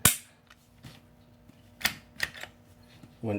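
An H&K VP9 pistol is dry fired, with one sharp click from the trigger break followed by smaller clicks from the short trigger reset, close and distinct in a quiet room.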